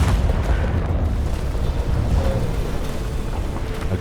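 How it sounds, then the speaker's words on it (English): A blue dynamite blast in the video game Hard West 2 rumbles as a deep, heavy explosion, a sustained low roar that fills the whole moment with no pause and no voices. "A ghostly blue blast"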